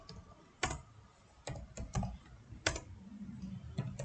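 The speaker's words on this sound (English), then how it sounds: "Just type it out." Someone types code on a computer keyboard, producing quiet, irregular clusters of sharp key clicks with short pauses between bursts.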